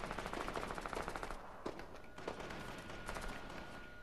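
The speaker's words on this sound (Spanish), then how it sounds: "están disparando" Gunfire in the Fortnite video game: rapid automatic bursts of shots, with a steady rattling stream, a short pause, then more bursts and single cracks.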